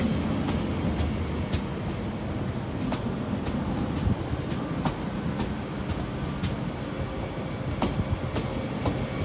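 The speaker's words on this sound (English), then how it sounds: "we have an SNCF service departing over" An SNCF train pulls out of Paris Gare du Nord, giving a steady close rumble and rolling roar with light rhythmic clicks of wheels over rail joints and no voices.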